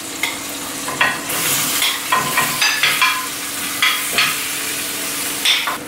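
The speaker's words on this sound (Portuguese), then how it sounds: "o frango eu tô aqui a virar de um lado para outro" Chicken roasting in an oven with sweet potatoes sizzles steadily while it is turned, with repeated scraping and tapping as it is moved from side to side.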